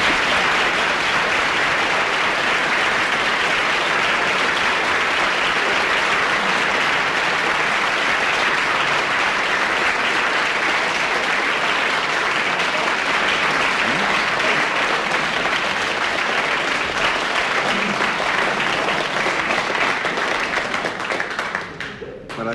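Studio audience applause for Frank Muir on a radio panel game, a loud, steady wash of clapping sustained for over twenty seconds before cutting off abruptly at the end.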